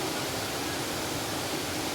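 Steady broadband rush of water falling at Jet Sao Noi waterfall in Saraburi, a continuous even wash with no pauses, heard alone without voices.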